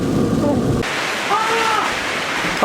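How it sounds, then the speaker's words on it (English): Heavy rain pouring on the outside of a Jeep Comanche, a dense hiss that drops in level partway through, with faint tonal sounds briefly rising over the downpour. "it's raining like crazy out there now"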